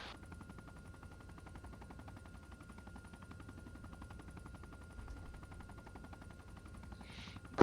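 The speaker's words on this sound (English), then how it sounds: "Okay, I think we're in cover from the machine gun." Sustained machine gun fire in the Arma 3 combat game, a steady rapid rattle of rounds running nonstop for several seconds at fairly low, distant-sounding volume, with one sharper crack near the end.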